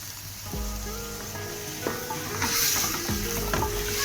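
Under a kilo of meat browns in a pot for Punjabi chicken biryani, a loud continuous sizzle close by, punctuated by repeated scraping strokes of stirring.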